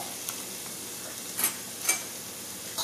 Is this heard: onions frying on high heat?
yes